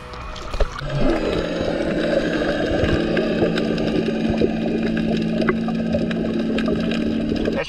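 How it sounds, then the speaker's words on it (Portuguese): Banana boat motor at a beach in Arraial do Cabo, captured with the camera underwater: a continuous muffled droning hum with a steady tonal whine, joined by bubbling and churning water. "Esse barulho que vocês estão escutando com a câmera dentro d'água aí, é o barulho do motor da banana."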